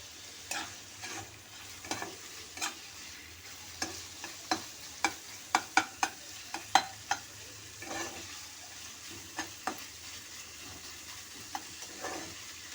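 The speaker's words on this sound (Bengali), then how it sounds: "চিকেনটা একটু ভাজা হোক।" Marinated chicken sizzles steadily in a hot pan for chicken chow mein, with a run of sharp scraping spatula strokes stirring it at an irregular rhythm, close and clear with no talk.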